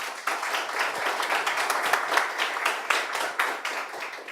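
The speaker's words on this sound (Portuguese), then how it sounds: "Uma salva de palmas, por favor." An audience at a legal lecture event claps in a steady, full round of applause that starts abruptly and holds at an even, moderately loud level, with individual hand claps audible in the mix.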